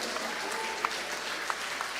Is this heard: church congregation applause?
yes